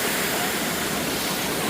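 Navajo Falls at Havasupai pours in a constant, close roar of falling water, an even rushing hiss with no break and no talking.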